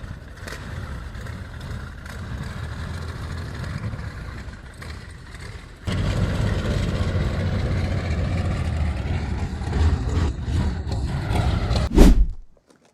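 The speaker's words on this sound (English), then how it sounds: "BMW V12 aircraft engine. It delivers around 500 horsepower at low RPM, driving through a simple 3-speed chain transmission" The vintage car Brutus, powered by a roughly 500-horsepower BMW V12 aircraft engine with a 3-speed chain transmission, runs with a deep, rough, loud rumble that grows heavier partway through and cuts off abruptly at the end.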